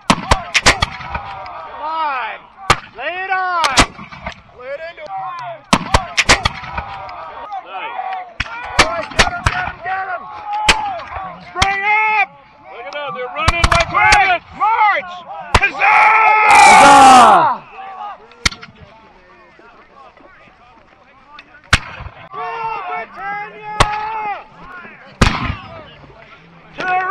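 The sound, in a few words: musket and artillery fire at Hubbardton battle reenactment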